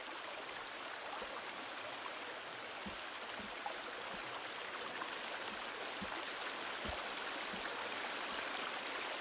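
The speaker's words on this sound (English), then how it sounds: "Beautiful waterfall." Steady broadband rush of a waterfall in the video game Sons of the Forest, continuous and even throughout with faint low knocks, heard alone without talk.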